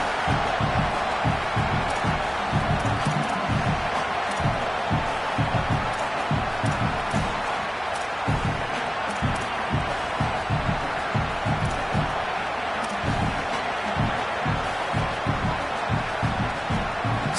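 Roaring football stadium crowd before a field goal attempt, a dense, continuous wall of noise with rhythmic bursts of claps and shouts, steady and loud throughout, with faint talk underneath.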